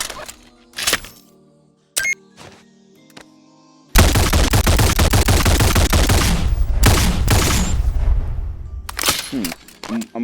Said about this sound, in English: let's listen to some gunshots. That sounds really cool. Let's listen to it on full auto.